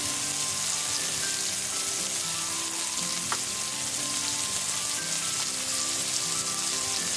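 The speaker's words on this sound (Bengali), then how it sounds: "আলুটা এবার ভালোভাবে ভেজে নিব" Potatoes fry steadily in a pan with a dense, continuous sizzle and occasional soft stirring, close and even throughout with no voices.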